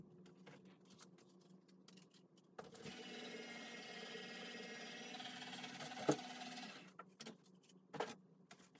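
An embossing folder with an inked card panel cranked through a die-cutting machine, a faint steady rolling grind lasting about four seconds, framed by soft tapping and handling noises before and after.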